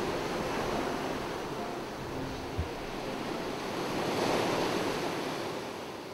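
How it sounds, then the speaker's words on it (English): Waves wash steadily onto a sandy beach on Kefalonia, a constant broad surf roar with gentle swells in loudness, mixed with some wind rumble and no voices. "Lassi grew around 2 spectacular sandy beaches"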